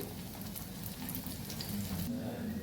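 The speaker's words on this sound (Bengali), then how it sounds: "এইভাবে আমি সমস্ত মাছগুলো ফ্রাই করে নেব" Lote fish fry in hot oil in a pan, giving a steady, dense sizzle and crackle that holds at an even level throughout, close up, with no one talking.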